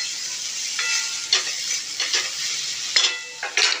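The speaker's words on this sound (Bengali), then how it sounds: "আবারও ভালো করে মিশিয়ে নিচ্ছি" A spoon stirs and mixes bitter gourd in a hot pan over a steady sizzle, with several distinct scraping strokes close by and no voices.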